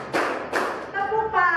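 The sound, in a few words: class doing a rhythmic clapping routine (tepuk)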